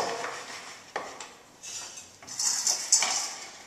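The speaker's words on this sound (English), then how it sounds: "I'm just going to put all the vegetables at the bottom." Vegetables are set into a roasting pan in a home kitchen, producing a few close clinks and light metallic knocks with soft thuds between them and no voices.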